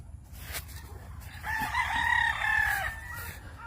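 Roosters crow at a poultry farm in Misamis Oriental, Philippines, with a long, loud cock-a-doodle-doo rising over a steady background of clucking fowl and farm noise.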